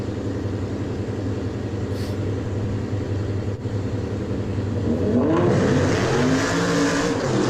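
Mopar car engine droning steadily while racing a 700 wheel horsepower GTR, then swelling louder and rising in pitch as it accelerates hard near the end, with no talking.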